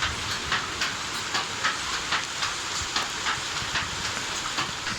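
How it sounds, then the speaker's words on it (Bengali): Heavy rain pours down over a rooftop under thick clouds, a dense, steady hiss that swells in regular surges and continues close and loud with no voices. "প্রচুর বৃষ্টি পড়ছে"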